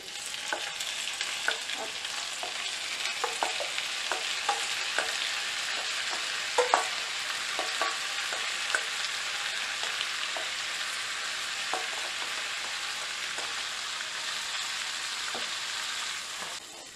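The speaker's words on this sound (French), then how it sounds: "Vous le mélangez comme ça tout doucement jusqu'à ce que votre riz devienne translucide." Rinsed rice toasts in melted butter for Turkish pilaf, a continuous bright sizzle with dense crackling and soft scraping as it is gently stirred throughout; a brief word is spoken once.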